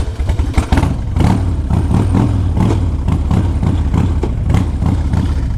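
A carbureted 2004 Harley-Davidson Road King Custom motorcycle engine runs up close, loud and continuous, with a deep low rumble and a steady pulsing beat from start to finish.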